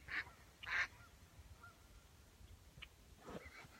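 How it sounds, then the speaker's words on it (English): Two mallard ducks at dusk give two brief, faint calls early on, then only quiet ambient noise with a few soft distant chirps follows. "2 mallards helping each other get to a safe haven before the night comes in"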